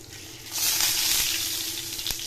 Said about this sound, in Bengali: ডিমগুলোকে আমরা ভেজে নেব।